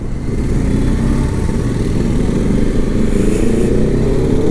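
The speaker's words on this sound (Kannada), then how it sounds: "ಬೂಮ್ ಅಂತ ಇದೆ ಗಾಡಿ. ಟ್ವಿನ್ ಸಿಲಿಂಡರ್ ಸೌಂಡ್ ಗೊತ್ತಾಗುತ್ತಲ್ಲ ನಮಗೆ." A twin-cylinder motorcycle engine revs loud and close, holding a steady, throaty roar with a deep rumble for the whole stretch and no talk over it.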